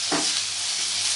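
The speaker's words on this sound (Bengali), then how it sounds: "এবার আমি আলু আর ফুলকপিটাকে মশলার সাথে ভালো করে কষিয়ে নেব" Potato and cauliflower with ground spices, salt and tomato paste being sautéed in a pan for aloo fulkopir dum, a steady broadband sizzle with a brief stirring scrape near the start, close and continuous, no voices.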